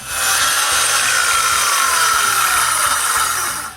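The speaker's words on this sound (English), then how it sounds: "I then cut another plank" Wooden plank cut with a power saw, a loud continuous whining, rasping cut lasting a few seconds before tapering off at the end.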